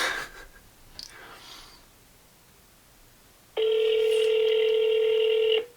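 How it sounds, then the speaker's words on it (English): An iPhone 15 Pro placing a call through Siri: a faint chime and quiet room tone, then a loud, steady ringing tone starts abruptly and holds for about two seconds before cutting off. "Hey Siri, call Eric"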